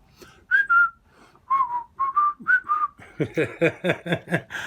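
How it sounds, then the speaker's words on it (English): Melodic human whistling from a played song, clear pitched phrases in short bursts that give way to a rhythmic run of repeated whistled notes, close and prominent with no talking. "Just purse your lips and whistle, that's the thing."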